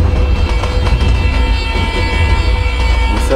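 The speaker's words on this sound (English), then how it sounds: "It's a train number 14724." Passenger train led by dual WDM 3 diesel locomotives in Microsoft Train Simulator, a steady loud rumble of engines and rolling wagons throughout, with a brief higher tone near the end.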